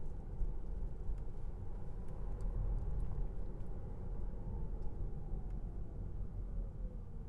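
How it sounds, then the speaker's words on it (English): Faint rising whine from the electric motor of a 2024 Tesla Model 3 Highland under acceleration, heard from inside the cabin above steady road and tire rumble. "Still hear the motor whine."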